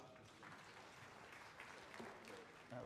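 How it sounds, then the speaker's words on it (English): Conference audience clapping for a speaker at an annual general meeting, a steady patter of many hands that holds at moderate level for a few seconds, with faint voices mixed in. "Let's give him a clap."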